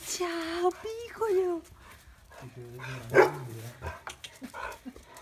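A four-month-old puppy whimpers and yips in short, high-pitched bursts between close, affectionate talk from people greeting it.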